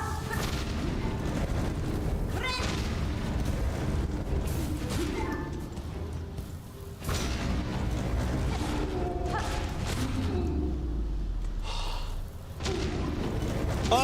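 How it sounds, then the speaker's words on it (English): Booming explosions and heavy, gunfire-like blasts in the video game Silksong, a loud and continuous barrage layered with game music and mechanical rumble, with a low descending tone near the end. "Oh god, it's the explosions"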